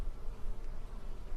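Honeybees buzzing around a small garden water bowl, a close, steady droning hum with slight wavering as they move about.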